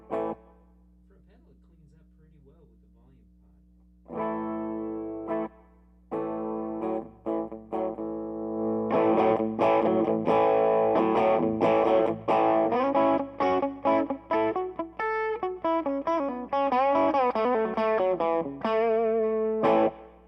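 Electric guitar played through a BYOC Silver Pony effects pedal, an overdriven tone with a sustained low note, then a run of strummed chords and quick melodic lines growing busier and louder; no one talks.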